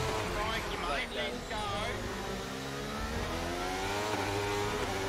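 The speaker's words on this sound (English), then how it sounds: "Rev limiter." A racing car engine in a Formula 1 style video game screams at high revs and bounces off the rev limiter, with rising and falling whine close up and constant, while a driver talks over it.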